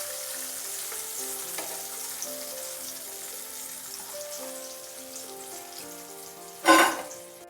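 Raw plantain fries frying in hot oil give a soft, continuous sizzle with light crackles under a background music track, then a brief louder splash-like burst near the end.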